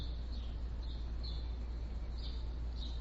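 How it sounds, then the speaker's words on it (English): Birds in a backyard chirp faintly and intermittently in the distance, short high calls repeating every second or so over a steady low outdoor hum. "You can probably hear the birds."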